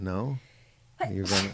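A single sharp sneeze comes at the end, right after a short spoken question in a relaxed chat between two people.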